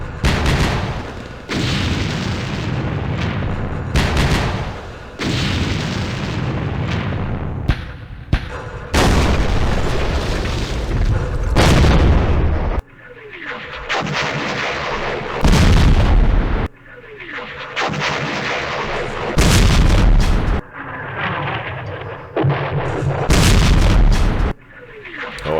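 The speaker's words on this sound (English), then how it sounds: "Just burn through these artillery strikes." Artillery strikes blast in rapid succession in the Battle of Hue scenario of the Vietnam war game Campaign Series Vietnam, with loud, dense booms and rumbling bursts packed almost continuously, broken by only brief gaps.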